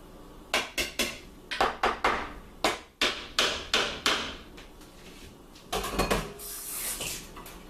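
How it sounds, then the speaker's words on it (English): A whole garlic clove rubbed on a small grater over a salad, giving bursts of quick, sharp scraping strokes in uneven clusters with short pauses between, close and fairly loud, with no talking. "I'm using a small grater here, and I'm just going to grate the whole entire garlic clove right into my salad"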